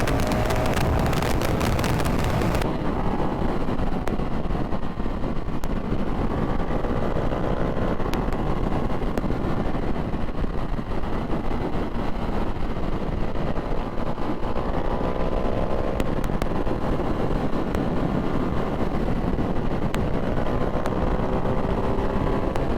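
A Ducati Hypermotard 698 Mono or KTM 690 SMCR single-cylinder supermoto engine grunts steadily while riding, with a loud continuous drone and wind rush at the mic, heavier and brighter for the first few seconds.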